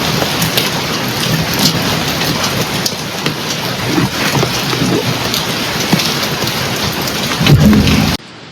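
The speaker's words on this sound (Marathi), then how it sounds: "पूजा मला मना करत होती की पावसात नको भिजू." Heavy rain pours down steadily and loudly during a thunderstorm, with rumbles of thunder rolling beneath the dense hiss of the downpour. No one speaks.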